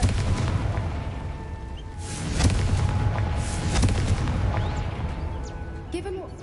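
A fiery Confringo spell blast in the video game Hogwarts Legacy, a dense rumbling boom that swells and rolls over sustained crackling game ambience, with voices in the mix.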